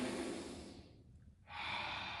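Deep, audible breaths during a stretching routine for stiffness and soreness, a long airy exhale fading to a brief quiet pause before a strong inhale, close to the microphone.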